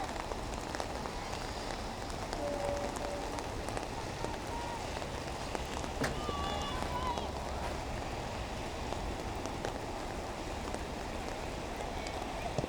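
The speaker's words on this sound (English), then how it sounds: "it's rainy out there" Steady rain falls during an outdoor high school field hockey game, a constant hiss of drops on surfaces that holds evenly throughout.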